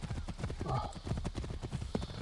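Horse hooves clip-clop at a steady trot in the Assassin's Creed III video game, a quick rhythmic run of soft thuds under faint background game sounds.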